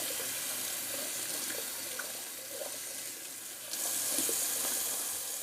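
Tap water runs steadily into a sink while alum is rinsed off a freshly shaved face, a soft continuous splash with faint handling sounds that grows louder and brighter near the end as the flow increases.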